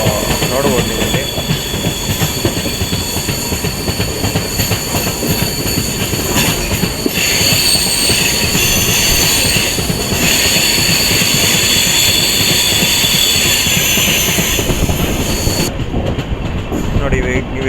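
The Lalbagh Express train runs on toward Basin Bridge junction near Chennai, with a loud continuous rumble and the rhythmic clatter of wheels from on board, ending in a brief hiss.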